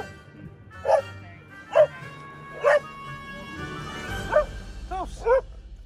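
Several dogs give short, high yips and barks at irregular intervals, about six sharp bursts over a low background hum.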